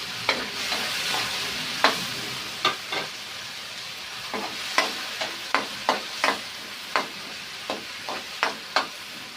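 Garlic, onion and tomato sauté in hot oil, a soft steady sizzle broken by a string of sharp spatula scrapes and taps against the pan at an uneven pace.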